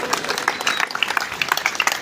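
An audience claps loudly and continuously to welcome a guest at an indoor gathering, a dense, close crowd applause with no talk over it.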